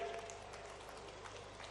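A crowd at a BJP Gaurav Yatra rally in Balaghat claps to welcome the chief minister. The applause is faint, diffuse and steady, like a distant outdoor audience.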